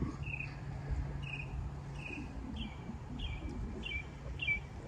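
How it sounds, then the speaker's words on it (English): Birds chirp outdoors on a morning at an RV resort, short repeated high calls about once a second, moderately distant and soft over a steady low background hum. "Some noisy birds out here this morning."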